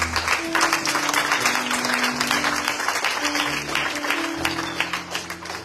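A church congregation applauds the Lord with steady, loud clapping that fills the whole stretch, while sustained musical tones run underneath.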